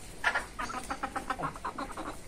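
A rooster gives a quiet series of short, rhythmic clucking calls at close range, with no talking over them.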